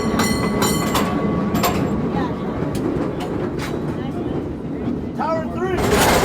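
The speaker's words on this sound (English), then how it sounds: "we're going to see if we can ride one of those old trams" Old historic tram riding along San Francisco's California Street, a steady loud rumble and rattle of the car rolling with clattering and squealing wheel sounds, a bell-like chime near the end.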